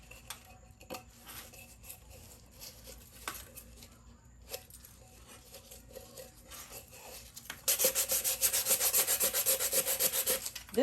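A glittery epoxy-coated tumbler is worked over with 180 grit sandpaper, giving faint, sparse scraping strokes at first and then a steady, louder run of rapid rasping rubs near the end.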